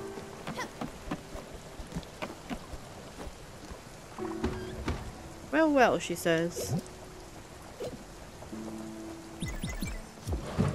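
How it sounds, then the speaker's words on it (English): Steady rain falls in the cozy management video game Spiritfarer, a soft hiss of drops spread through the whole scene while a person talks over it and brief game chimes and tones sound in the middle and near the end. "It's raining!"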